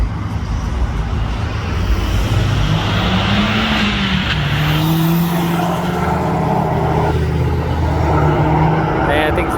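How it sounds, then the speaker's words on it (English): A Mazda Speed 3 with a new downpipe accelerates past on a road in a flyby, its engine note rising and falling steadily over continuous broadband road and wind noise, fairly loud throughout. "He's gonna bust a U-turn and we're gonna get a racer flyby right now"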